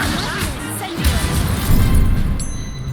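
Incendio fire spell cast in Hogwarts Legacy, a close whooshing burst of flame layered over dense game combat noise, with a louder swell midway and continuing crackle and impacts.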